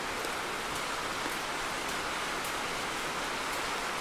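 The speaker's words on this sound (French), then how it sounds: "La pluie qui ne se calme pas." Heavy rain pours down steadily, a dense, unbroken hiss with no pauses and no voices.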